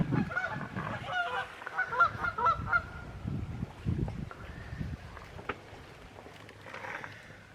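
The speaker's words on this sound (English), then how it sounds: "Can you hear the goose?" A goose honks repeatedly in a rough, uneven series, fairly close, then the calls fade as it flies off, leaving a quieter outdoor campground background.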